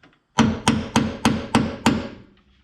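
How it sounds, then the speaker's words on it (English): A center punch is tapped on the metal hood of a Toyota Tacoma, six crisp, evenly spaced metallic knocks ringing out close and clear, each decaying briefly before the next. "Just gonna center that there and just gently tap on that to get our hole started."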